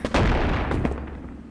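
A shotgun in the VR game Animal Company fires one loud, booming blast with a second thump just after, then a fading low rumble and no speech.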